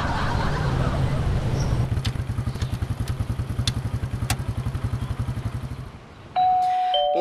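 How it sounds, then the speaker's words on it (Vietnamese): A doorbell chimes several times in quick bright strikes over a rapid, throbbing motorcycle-like engine putter, followed by a sustained electronic tone near the end, with voices in the background. "có ai nhấn chuông kìa"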